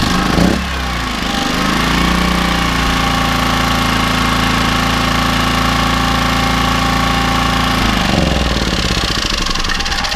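A small petrol generator engine runs loud and close after a carburettor clean, a steady buzzing drone with a slight pitch shift near the start and end and no voices over it.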